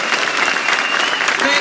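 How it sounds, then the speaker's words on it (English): Audience applause at a Beyond Fest Schwarzenegger double feature screening with an Arnold Q&A: dense, steady clapping from a large crowd, loud and continuous throughout with a cheer rising briefly near the end. "Can we have a round of applause for our baby predator, please?"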